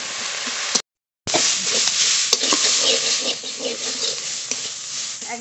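Spiced fish, tilapia seasoned with salt and turmeric, fries in a pan with a steady sizzle while a utensil scrapes and stirs through it, broken by a short silent gap near the start.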